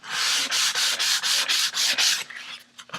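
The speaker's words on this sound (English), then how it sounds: "That's Halle Berry grit. Extra fine. Extra fine this time" Extra fine grit sandpaper rubbed over wood while building a piccolo guitar makes close, rhythmic back-and-forth hissing strokes, about eight in quick succession, then it trails off into a few lighter, scattered rubs.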